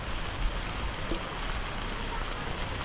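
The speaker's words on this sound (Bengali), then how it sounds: "প্রচুর বৃষ্টি হচ্ছে কিন্তু টিপ টিপ করে" Light drizzle falling steadily under a dark, heavily clouded sky outdoors, a soft continuous patter with scattered faint drop ticks and no talk.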